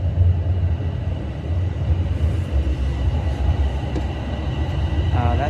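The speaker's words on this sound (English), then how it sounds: "train unfortunately is out of service, so that one's gonna go all the way to Wilson Yard" A TTC subway train rumbles steadily at Highway 407 Station, a heavy low drone of rolling cars with faint squeals near the end, with some speech underneath.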